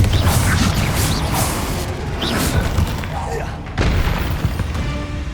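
In Hogwarts Legacy, a Confringo blasting curse hits with a loud, booming explosion that rumbles on with crackling debris and is followed by a second, sharper burst. A voice calls out during the blasts.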